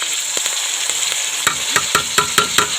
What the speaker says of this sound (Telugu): బాగా హీట్ ఎక్కిన తర్వాత ఉల్లిపాయలు అయితే ఫస్ట్ వేసేసుకోవాలి. ఉల్లిపాయలు, మిరపకాయలు